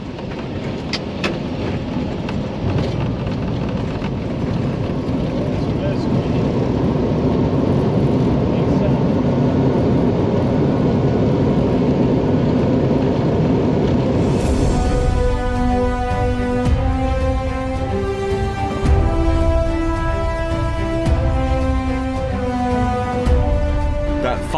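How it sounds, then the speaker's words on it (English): An airliner landing at Queenstown, heard from inside as a steady, loud, broad cabin roar that shifts partway through into a rising, tonal engine whine over continuing rumble. "Final landing in the Queenstown was dramatic."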